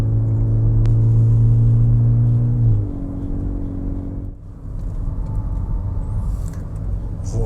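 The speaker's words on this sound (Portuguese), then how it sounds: "É um ruído de carro esportivo. Bem agradável." A VW Virtus GTS sports sedan's engine drones steadily while driving, a loud low hum that drops in pitch as it shifts, then settles into a softer road rumble.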